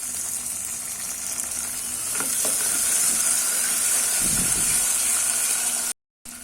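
Fresh green peas drop into a hot pan of vegetable pulao being cooked and set off a steady, close sizzle and crackle. A few stirring clinks and scrapes come through midway, and the sound cuts out briefly near the end.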